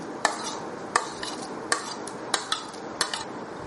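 A spoon stirs finely chopped tomato into Gujarati dal in a pot, making sharp metallic clinks against the vessel roughly every half second over a soft background hiss.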